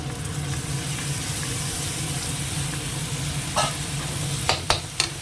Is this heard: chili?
yes